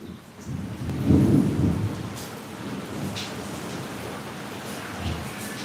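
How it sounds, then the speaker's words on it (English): Thunder rumbles low and loud during a rainstorm, with a heavy swell early on, then steady rain noise and softer distant rolls behind it. "Do you guys hear that thunder?"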